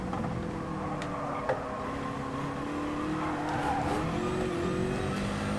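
A car in the GT Sport racing game oversteers, its tyres squealing in long wavering whines over a steady engine drone, with an old Lamborghini nearby on track.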